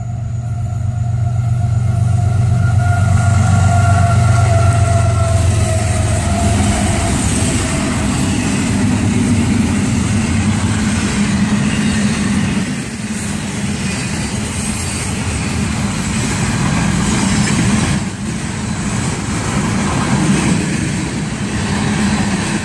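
A train rolls past at night, a loud sustained rumble with low drone and rattling that holds steady for over twenty seconds, close by and alone without talk.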